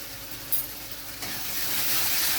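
Coriander powder, turmeric, chili powder and meat masala sizzle and hiss as they fry in a pan for pea ghugni. A steady frying noise swells louder near the end, with no voices.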